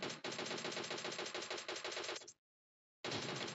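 Rapid automatic gunfire in the battle royale game PUBG rattles loud and close in a sustained burst, cuts off abruptly, then resumes after a brief silence.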